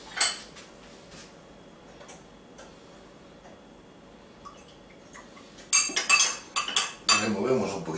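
A spoon stirs chocolate cupcake batter with vanilla and milk in a bowl, giving faint scattered taps at first and then a quick run of bright clinks and scrapes against the bowl.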